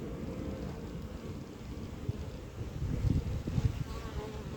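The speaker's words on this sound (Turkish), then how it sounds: "Arılar şu anda bakın arkadaşlar nasıl sardı." A dense swarm of honeybees on a hive drones steadily up close, a constant low buzzing that swells slightly with a few louder passes near the end.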